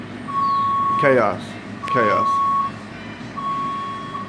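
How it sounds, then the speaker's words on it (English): Steady electronic tones from sterile processing machines beep repeatedly in a hospital department, with long sustained beeps and short pauses between them, loud and close, while a person speaks briefly over them. "Machines beeping"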